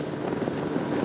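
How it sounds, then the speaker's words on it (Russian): Steady wind buffets the microphone with a low, continuous rushing roar on a cold day by the Ob River, with no voices present. "Ветер."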